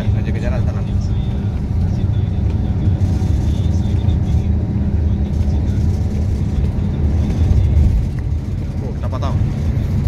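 Steady heavy engine drone and road rumble from inside a speeding Mahardhika bus, loud and continuous throughout with a voice talking over it.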